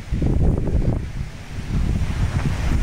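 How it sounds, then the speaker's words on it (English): Strong wind buffets the microphone at a beach at Davis Camp Park on the Colorado River, a loud continuous roar and rumble with gusts rising and falling, no talk. "where it's really windy today out here."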